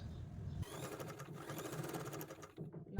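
Sewing machine running a second line of stitching over invisible piping on a lining, a steady close whirring hum of the needle mechanism that ends in a sharp click.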